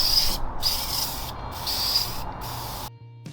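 Aerosol can of Bullseye clear shellac sprayed onto a thrifted furniture piece in three steady hissing bursts with short pauses between, close up and with no talking.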